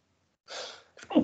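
A single close sneeze, breathy and fairly loud, comes after a short intake of breath and is immediately followed by a brief voice.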